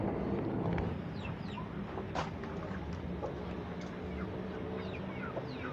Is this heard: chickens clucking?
yes